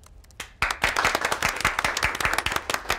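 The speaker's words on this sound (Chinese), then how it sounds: "我觉得我们所有人可以为自己鼓鼓掌" A room full of colleagues at a company meeting bursts into applause: a few scattered claps, then a dense run of brisk, close handclapping from a group that keeps up a steady rhythm.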